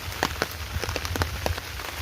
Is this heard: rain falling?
yes